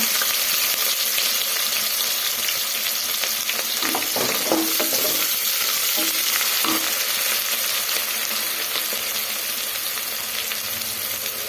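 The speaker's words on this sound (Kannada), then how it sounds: "ಉದ್ದಿನಬೇಳೆ ಒಂಚೂರು ಫ್ರೈ ಆಗಲಿ. ಹಸಿಮೆಣಸಿನ್ಕಾಯಿ, ಈರುಳ್ಳಿ, ಕರಿಬೇವು ಸೇರಿಸ್ಕೊಳ್ಳೋಣ." Urad dal, green chilies, onion and curry leaves fry in hot oil for hesarubele bath, crackling in a constant close sizzle, with stirring scrapes and a few clacks of the spoon near the middle.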